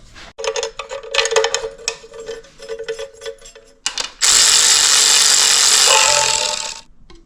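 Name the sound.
power tool driving bolts on Oldsmobile 400 engine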